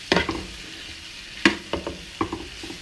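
Tomato paste being mixed into eggplant and potato in a pan: a few scattered scraping, clattering strokes of a utensil over a soft background sizzle, close by, with no talking.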